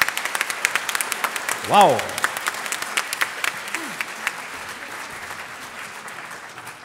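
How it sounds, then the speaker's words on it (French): An audience at a hospital staff talent show claps warmly, sharp individual claps scattered through a steady wash of applause, while a voice exclaims briefly and a short whistle-like tone rises over the crowd. "c'est avec les applaudissements encore que l'on vous raccompagne dans les coulisses"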